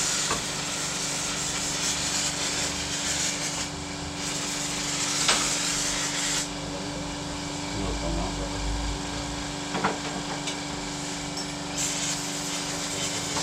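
Brake cleaner sprayed onto scooter variator parts from a Zontez SZ 250 during variator maintenance. It comes as a steady, loud hiss in long bursts with short pauses, over a faint engine-like hum in a workshop.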